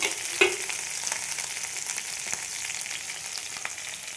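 Grated ginger frying in a hot pan gives a soft, even sizzle close by, with one sharp clink of a utensil near the start and no talking.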